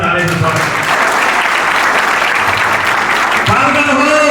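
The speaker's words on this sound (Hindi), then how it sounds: "वो बच्ची के लिए जोरदार ताली बजाओ।" Loud, steady applause from an audience honouring a girl who topped her college, a dense wash of clapping filling the whole stretch with some voices mixed in.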